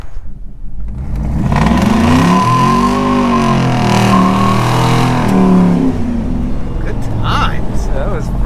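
Engine-swapped shop truck accelerating hard through a couple of gears, a loud close engine roar rising in pitch, dipping at each shift and climbing again, with people talking afterward.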